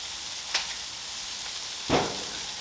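Smash burger patty searing on a Blackstone griddle, a steady broadband sizzle with two brief louder flares, one near the start and a stronger one toward the end.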